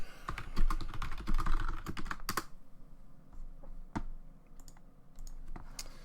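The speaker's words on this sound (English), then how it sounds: "I'll just type to him." Rapid clicking of keys on a computer keyboard, an irregular burst of close, crisp taps that thins into scattered single presses, with no voices.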